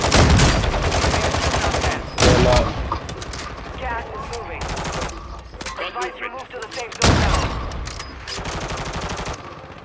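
Heavy gunfire from a Call of Duty: Modern Warfare II quads Resurgence match crackles in dense, repeated bursts, with louder volleys at the start and near the end, mixed with players talking over it.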